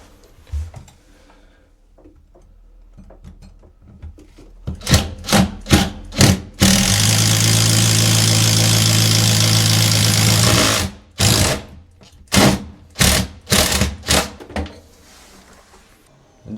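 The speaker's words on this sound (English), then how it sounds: "I've got a 32 millimeter brand new Bosch speed bit." A drill with a new 32 mm Bosch speed bit on an extension bores a hole through a floor. A few short trigger bursts come first, then about four seconds of continuous loud grinding, then more brief bursts.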